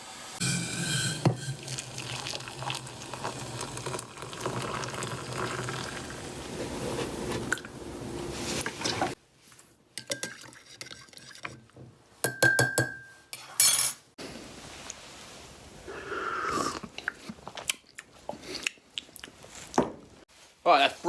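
Tea gets brewed in a kitchen: water runs and fills, then a run of ceramic clinks, cup knocks and spoon taps with brief pours, with spoken voices over parts of it.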